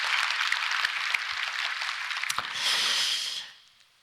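A church congregation at a Sunday worship service claps together, a dense close burst of applause that swells near the end and then fades out quickly to quiet.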